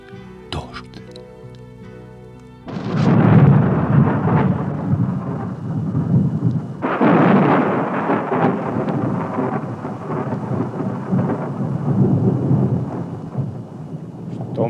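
A thunderstorm rolls in with deep, booming thunder and steady rain, two long rumbling swells that stay loud for over ten seconds, with a voice reading poetry beneath the storm.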